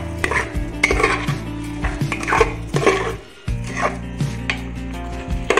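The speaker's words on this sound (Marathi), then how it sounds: "धुतलेले तांदूळ या मिक्स व्हेज मध्ये टाकून द्यायचे आणि ते सुद्धा एकजीव करून घ्यायचे।" Metal spoon scraping and stirring washed rice into mixed vegetables in a pan for veg pulao, with close, repeated rasping strokes and pot clatter over a steady tonal background.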